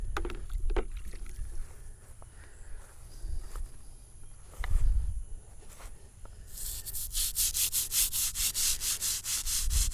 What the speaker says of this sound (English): This is granite, and on these polished surfaces of this granite, this brush works the best.